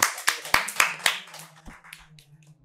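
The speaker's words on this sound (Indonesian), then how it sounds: "Tepuk tangan ya, itu." An audience claps hands in a quick, sharp burst of individual claps that fades out after about a second and a half, with a low voice murmuring underneath.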